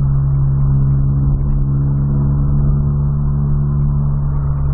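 A lowered Volkswagen Golf engine roaring nearby, a loud, deep and steady drone with a strong low hum that holds constant without pauses.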